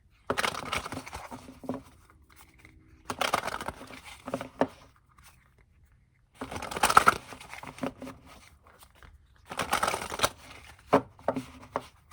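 Someone shuffles a Divine Beloved Oracle card deck by Tosha Silver, producing several separate bursts of soft riffling and flicking with quiet pauses between them, close and fairly gentle.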